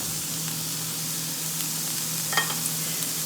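Vegetables and onion sauteing in a pan, a steady loud hiss of sizzling oil with a few faint pops and stirring clicks near the end, no voices.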